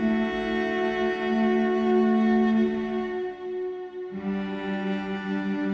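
A lone cello draws long, sustained bowed notes, close and warm, pausing briefly before shifting to a new held tone.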